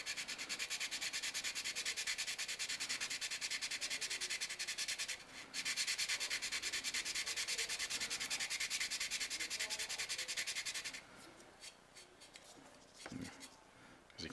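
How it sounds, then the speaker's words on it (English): Steady hand sanding rubs over a flat surface of a 1/100 scale RC Nightingale model part, continuous scratchy strokes with a brief pause, then stopping near the end to quieter handling. "it's just a matter of getting a flat surface and just sanding the surface down."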